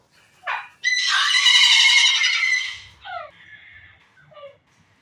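A pet parrot lets out a long, loud, shrill scream lasting about two seconds, preceded by a short squawk and followed by a few softer squeaks and chirps, close to the microphone in a quiet room.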